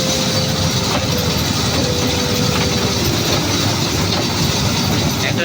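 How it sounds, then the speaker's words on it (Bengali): A toy train at the Howrah rail museum runs along its track with a steady loud rumble and clatter, and a thin wheel squeal rises now and then. "একটা রেল মিউজিয়ামের ভেতরে একটু ট্রেন চড়ে নিলাম"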